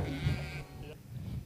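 Sheep bleating from a video played back in a church sermon setting, a low wavering bleat heard faintly with some room noise, brief and moderately distant.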